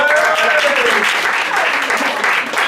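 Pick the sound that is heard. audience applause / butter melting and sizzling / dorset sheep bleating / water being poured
audience applause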